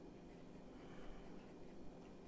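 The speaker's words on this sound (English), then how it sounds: "I'm going to come with my 2B pencil now actually and start working into some of this darker area here" A 2B pencil shades fur on paper with light pressure. The strokes are faint, close, rhythmic and scratchy, repeating steadily with no voices.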